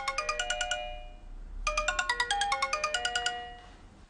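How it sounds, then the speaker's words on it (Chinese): A phone ringtone plays a bright, repeating electronic melody in two bursts separated by a short pause, clear and close, with no talk over it. "你先接电话。"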